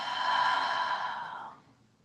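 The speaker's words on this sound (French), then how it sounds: "Par la bouche, expire." A single long breath pushed out through the mouth during a hatha yoga session, a soft, airy exhale lasting about a second and a half that tapers away into quiet.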